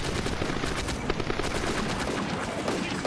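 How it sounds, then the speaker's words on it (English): Sherman tanks and small arms firing on a farm in the Combat Mission: Afrika Korps war game, heard as a dense, continuous crackle of overlapping gunfire and blasts, loud and sustained with no talk. "The Shermans are shooting at the farm everywhere they can find any target."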